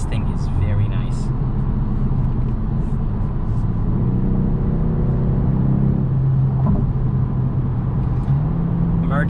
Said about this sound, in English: passing someone, accelerating hard, you're not going to have any issues with this G70